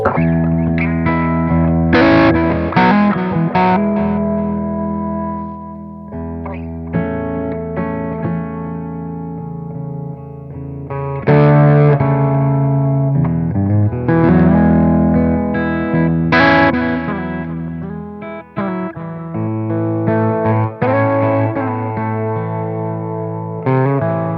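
Distorted electric guitar played through a Metropoulos Superplex amplifier, chords and riffs ringing with effects and echo, loud and close, no voices.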